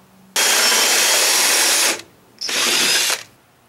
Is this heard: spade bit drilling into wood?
yes